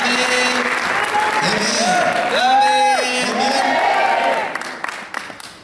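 Loud applause and cheering from a church congregation at Aposento Alto Las Vegas 2014, steady clapping with shouted whoops and sung or called-out voices over it, slowly tapering to a few claps at the end.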